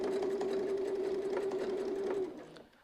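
Sewing machine running steadily while stitching a quilting pattern with a rotating petal pattern guide: a continuous close mechanical whir that slows and stops near the end.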